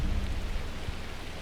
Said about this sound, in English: You can't show me something new and then do a lightning strike.